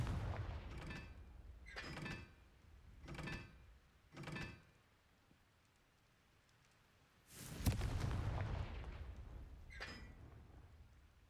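Spell blasts cast in the Hogwarts Legacy video game on PS5: four short, loud bursts in a quick row, a pause, then a larger crackling blast and one fainter burst near the end.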